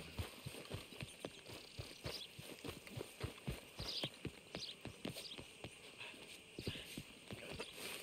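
Horse hooves galloping in the video game Red Dead Redemption 2, a fast, steady run of close, crisp hoof strikes with a soft snort or whinny mixed in.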